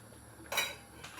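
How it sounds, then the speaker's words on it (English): A spoon scrapes and clinks inside a pot of Jamaican chicken foot soup with okra, yam and chocho, two brief stirring scrapes over a quiet kitchen background. "I don't want it to stick, so you just give it a little stir"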